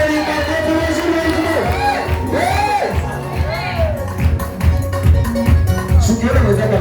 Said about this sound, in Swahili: Pigia sana makofi Neema Cheri makofi vizuri.